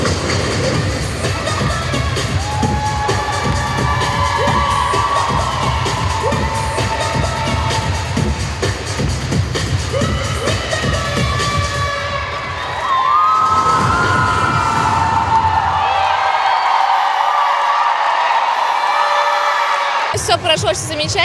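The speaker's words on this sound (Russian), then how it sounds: "сорвали бурю аплодисментов" A crowd at a cheerleading championship roars with loud cheering, whoops and children's shouts over music. It drops sharply near the end, then a brief burst returns.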